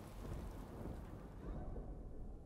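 Heavy rain and rolling thunder in the video game Divinity Original Sin 2 form a continuous low, rumbling downpour that swells and eases slightly, heard alone without voices.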